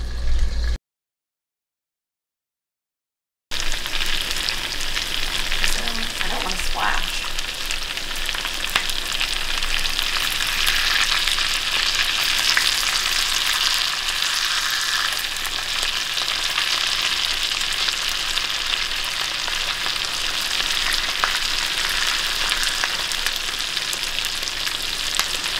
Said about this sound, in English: Tallow is wonderful for frying things like meatballs